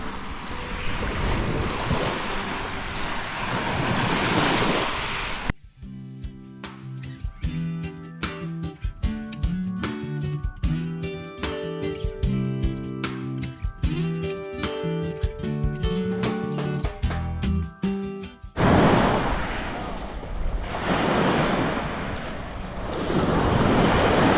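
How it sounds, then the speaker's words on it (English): Waves rush and wash onto a small-pebble beach in a loud, continuous roar, cut off midway by a stretch of music before the surf returns. "One of those waves came in hot and just got me soaked."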